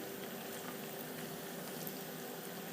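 A tea-shop style evening snack fries in hot oil in a pan, giving a steady, close bubbling sizzle that holds evenly throughout with no talking.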